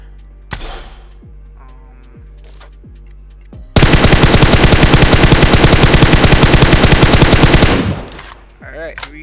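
Automatic weapon fire in the video game PUBG Mobile during a recoil test: one early shot, then a loud sustained burst of rapid, evenly spaced rounds lasting about four seconds before it cuts off.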